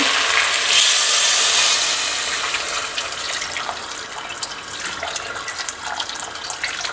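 Water poured into a cooking pot holding raw chicken and celery, a steady splashing, gurgling pour that is loudest at the start and then settles into a softer, continuous trickle, close by with no talking.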